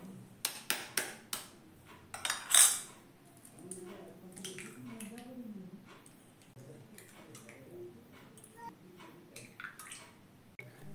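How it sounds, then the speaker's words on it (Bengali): Three eggs cracked one after another into a small plate: a quick run of sharp, close taps and cracks, followed by soft kitchen handling noise and a quiet voice talking. "এখানে নিয়েছি ছোট একটা থালা, তার মধ্যেই আমি 3টে ডিমটা ফাটিয়ে নিয়ে নিচ্ছি পরপর।"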